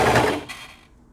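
A serger stitches a knit neckband in a short, loud mechanical burst that quickly fades out, with no talk.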